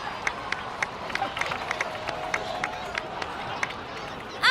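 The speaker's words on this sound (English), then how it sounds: "please give another round of applause for them." Applause from a crowd in the video game Genshin Impact patters steadily at a moderate distance, with soft, irregular claps and a voice speaking under it.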